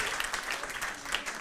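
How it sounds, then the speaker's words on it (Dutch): Audience applause at a presentation event, steady crowd clapping filling the whole moment at moderate volume with no voices over it. "We gaan weer voor je klappen."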